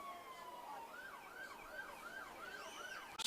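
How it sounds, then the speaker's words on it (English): A parade vehicle siren wails, rising and falling in steady repeated sweeps, moderately distant over a low background rumble, at a July 4th parade in Noblesville. "Start to hear them there in the background, the roar of the siren"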